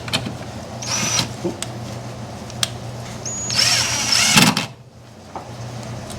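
A power drill drives bolts into a 1997 Honda Civic during a restoration. It gives two short, moderately loud whirring bursts, the second one longer, with quiet shop handling between them.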